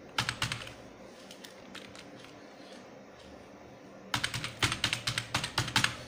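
Typing on a computer keyboard, close and clear: a quick flurry of key clicks, a quieter stretch of scattered presses, then another brisk run of keystrokes.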